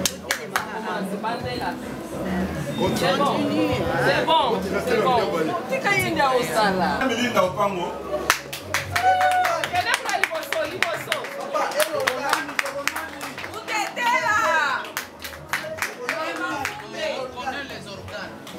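A gathered audience applauds women newspaper editors called forward one by one: waves of crowd clapping alternate with a speaker talking and background chatter.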